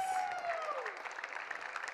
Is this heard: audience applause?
yes